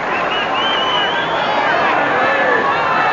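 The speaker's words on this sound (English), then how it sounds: "this crowd crying for everything at the moment" Football crowd at a 1993 AFL match between Adelaide and Collingwood roars loudly and continuously, a dense wash of shouting and babble with rising calls.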